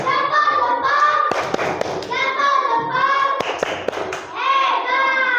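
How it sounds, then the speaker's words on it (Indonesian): A class of children doing a rhythmic thumb clap for a group, sharp bursts of claps and thumps mixed with voices chanting along, fairly close and lively. "Tepuk jempol untuk kelompok 1"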